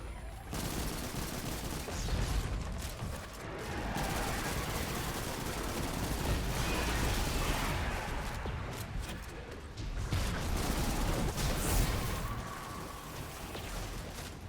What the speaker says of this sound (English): We're getting sniped from above.